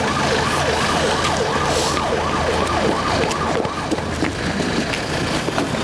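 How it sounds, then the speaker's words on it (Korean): An ambulance arrives at a funeral site before dawn, its wailing siren sweeping up and down in a steady cycle over engine rumble, loud and close, with no talking. "지금 막 앰뷸런스가 들어오고 있는데요."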